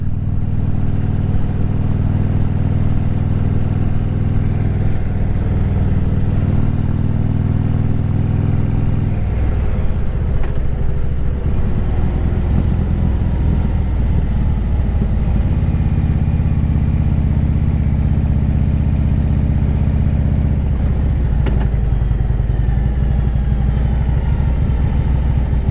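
A 2010 Harley-Davidson Street Glide Ultra rides at an easy pace around the block, its low, steady engine rumble continuous throughout with a few brief shifts in pitch and no talk.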